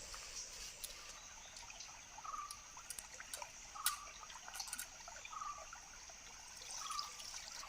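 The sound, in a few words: washing dry fish pieces in water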